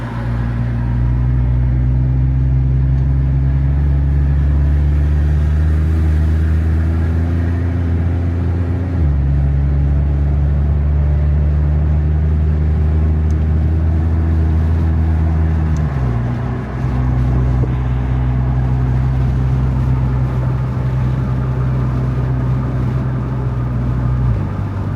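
An 1100 bhp Porsche 911 Turbo S accelerates hard on a road, its engine roaring loud and close from inside as the note climbs steadily through two gear changes over a long sustained pull.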